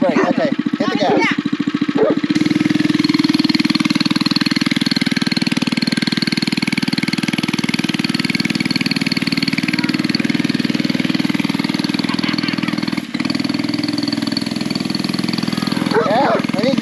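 Gas engine fitted to a Power Wheels ride-on car runs with a steady, buzzy, close drone throughout, while people talk over it near the start and end.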